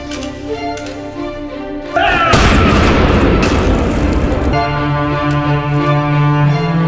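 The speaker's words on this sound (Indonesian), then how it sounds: "menuntun tangan Kang Ian yang memegang pistol untuk menembak Jin Ah kembali" A pistol shot in a dramatic scene lands as a sudden loud boom, and a heavy reverberant rumble holds for a couple of seconds over a steady background of music.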